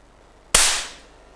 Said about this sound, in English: my partner there will fire a gunshot and the bot will move in his direction